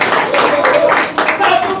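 Warm applause at a health administrator's installation ceremony in Grand'Anse, Haiti: a dense patter of many hands clapping continuously for about two seconds, with a voice audible over the clapping.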